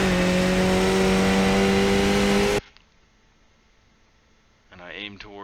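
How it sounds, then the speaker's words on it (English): A Skip Barber race car in the iRacing simulator at Zolder holds a loud, steady, tonal engine drone that cuts off abruptly. A quiet lull follows, and then a voice briefly speaks. "Your car is going to sound like it's getting smashed"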